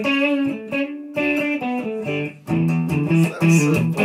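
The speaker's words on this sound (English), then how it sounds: "That's quite distortion one" A trumpet runs through the distortion setting of a cheap plastic effects unit, playing short, buzzy, gritty phrases with brief gaps between them, loud and close with no talking.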